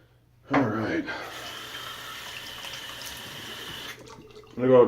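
Cold tap water runs steadily into a sink for a few seconds as a shaving rinse, a close, even hiss that starts and stops abruptly, with brief voice sounds just before and after.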